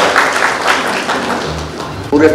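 Scattered applause from an audience of journalists at a UNICEF-organised gathering in Bhilai, mixed with voices and a few thumps; moderately loud and brief.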